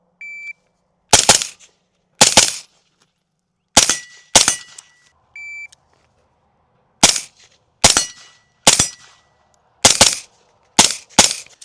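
Rapid suppressed 5.56 rifle shots fired in quick pairs and short strings at steel targets, each a sharp loud crack with a brief ringing tail, about a dozen shots in all.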